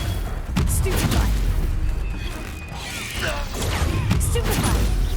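Spell combat in Hogwarts Legacy, with loud magical casting bursts, impacts and crashing effects in quick succession against a busy game soundscape.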